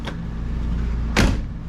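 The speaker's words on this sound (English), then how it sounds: "Door closes." A car door on a 1984 Bertone X1/9 swings shut with one solid, close thump near the end, following a faint earlier click, over a low steady hum.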